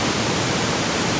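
Kaeng Sopha waterfall, a steady, loud rushing roar of falling water filling the whole moment without pause.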